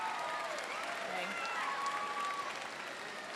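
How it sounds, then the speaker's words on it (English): Steady applause from a large commencement audience at a high school graduation, an even roar of clapping throughout with faint voices and whistles mixed in. "Give them a round of applause now for everything they do."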